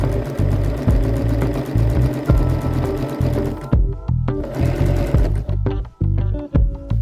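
A sewing machine runs a zigzag stitch over a French seam, whirring rapidly and steadily up close, then stopping and restarting in short bursts toward the end.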